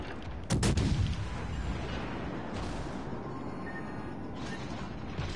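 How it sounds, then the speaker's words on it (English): A heavy boom and thump of torpedoes being launched at a ship in a naval video game, a loud burst near the start followed by rumbling water and engine-like noise, with softer whooshing swells later and no talking. "He's shooting torpedoes at you."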